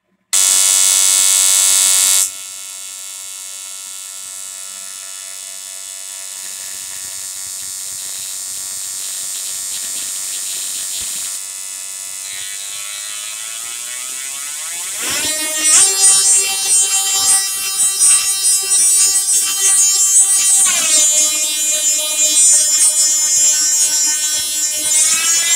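A bipolar Tesla coil buzzing with a steady electrical hum that shifts pitch as the throttle rises, then breaks into loud crackling, sizzling spark discharges for the last stretch.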